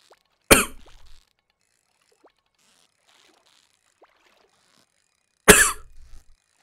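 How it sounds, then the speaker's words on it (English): Two sharp, dry coughs spaced about five seconds apart, each a loud burst with a short ragged tail, separated by near silence with faint clicks in between. "Sorry, I coughed."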